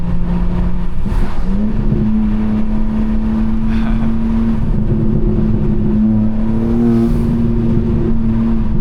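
BMW M4 Competition with a loud exhaust revving steadily, a sustained droning engine tone rising in pitch as it climbs, close and loud throughout without talk.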